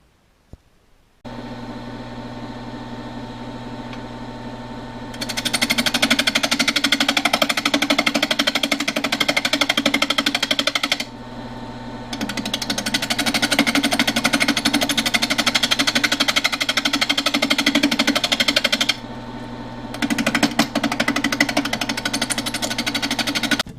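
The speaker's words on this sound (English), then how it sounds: "time to work on the inside, and I'm going to start with this round carbide cutter" A wood lathe spins a live-edge walnut bowl while a round carbide cutter hollows the inside, a loud droning motor hum broken by rough, harsh cutting noise in two long stretches separated by brief pauses.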